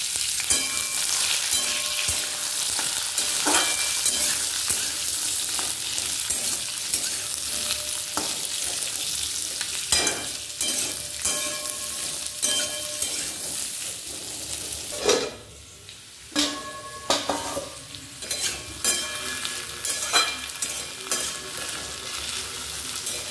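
Potatoes fry in a pan tempered with cumin and dried red chillies, a dense continuous sizzle. A spoon stirs and scrapes through them at intervals, with brief rattling bursts and a short dip partway through.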